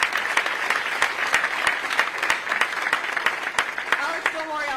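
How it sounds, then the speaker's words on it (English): A crowd applauds the new owners of the Portland Thorns women's soccer club, with sharp individual claps standing out over a steady roar of applause and cheering, and a voice rising near the end. "A round of applause for them."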